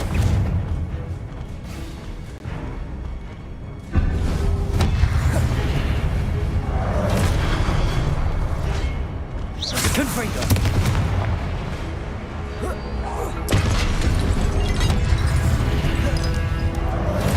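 Repeated Confringo fire spell blasts in a video game battle, a series of booming explosions and crashing impacts spread across the stretch, loud and close, with shouted spell incantations between them.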